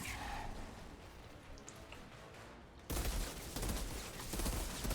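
Rapid gunfire with Inferno bullets in Outriders, a dense, continuous crackling burst that grows louder and harsher partway through, with no talking.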